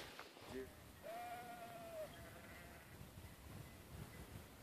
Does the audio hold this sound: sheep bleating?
yes